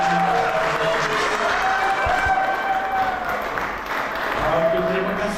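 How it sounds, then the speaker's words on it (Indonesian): Scattered applause from a wedding ceremony crowd fills the room, steady and moderately loud, with voices murmuring underneath. "terima kasih untuk tepukannya"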